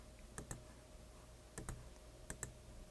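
Faint paired mouse clicks on a computer, three quick double clicks spaced about a second apart against a quiet, steady hum.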